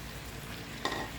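Boiled pickled bamboo shoots being stir-fried in a pan for a spicy chicken dish make a faint, steady sizzle, with a brief stirring scrape near the end.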